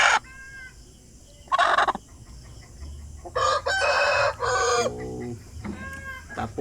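An aggressive, large Sumatra-type mother hen clucks in a yard, in short loud bursts and calls separated by quieter pauses, with other fowl and a rooster-like cry mixed in nearby.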